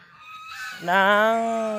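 Rooster in a pen of geese and chickens crowing once, a short rising call that swells into a loud sustained, harmonically rich cry, heard close and alone.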